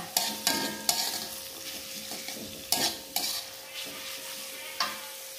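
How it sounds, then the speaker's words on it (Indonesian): Ground spice paste stir-fried in oil for tumis kangkung: a steady close sizzle under repeated sharp scrapes and knocks of the spatula against the pan, about seven strokes spread unevenly through the stretch, with no talk. "ditumis sampai layu, sampai wangi ya."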